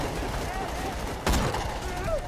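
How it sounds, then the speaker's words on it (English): A single loud sniper rifle shot at a Nomad enemy in Borderlands 2, one sharp crack standing out over steady game noise while people talk. "I'm in the middle of shooting a Nomad with a sniper"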